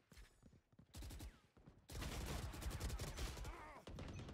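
Video game gunfire from the shooter Valorant rattles in quick, loud bursts, with a short volley followed by a longer sustained string of rapid shots.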